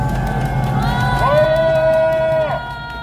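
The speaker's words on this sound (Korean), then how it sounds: "다시 한번 큰 박수 부탁드리겠습니다" A crowd at an outdoor protest rally at Daehanmun Plaza cheers and whoops, loud and sustained, with a whistle-like tone rising partway through and close voices mixed in.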